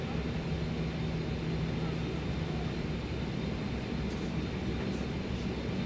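A BAE-146 airliner spooling up for takeoff in Microsoft Flight Simulator 2020, a steady broadband engine roar with a low hum that holds constant throughout, with no voices.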